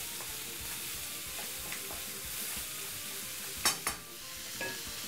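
Pork stir-frying in a pan gives a steady, close hiss of sizzling throughout, with a few sharp scrapes and clinks of a utensil against the pan near the end.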